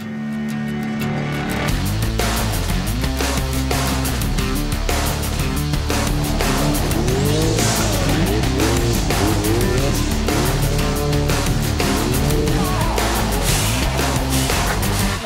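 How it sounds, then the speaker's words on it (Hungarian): Mercedes C600 with a 6-litre turbocharged V12 runs loud and close, a steady dense engine drone with shifting harmonics and no gaps throughout. "mi lenne, ha most bemutatnék önöknek egy 6000 köbcentis, 12 hengeres, hatalmas nagy turbómotoros C-mercit?"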